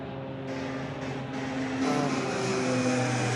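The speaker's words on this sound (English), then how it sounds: "Dash 8 now just getting off runway 34 left." A Dash 8 turboprop lifts off runway 34 left at Sydney Airport at night, its steady engine drone and propeller hum building gradually and holding loud and continuous throughout.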